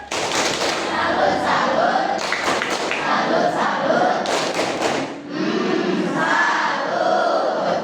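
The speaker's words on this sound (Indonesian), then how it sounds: "Oke, tepuk salut." A classroom group doing a rhythmic salute clap, several loud, punchy clap-and-thump beats in a patterned sequence with children's voices chanting along, repeating in a second round after a brief dip.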